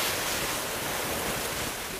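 Strong winter wind of about 15-16 metres per second and breaking waves while sailing a Mini 6.50 Pogo 2 at sea in squalls, a loud continuous roar and rush close to the microphone.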